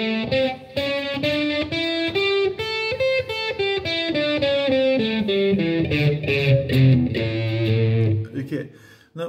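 A distorted electric guitar runs through a quick series of single notes climbing and descending a scale, played steadily with no talking.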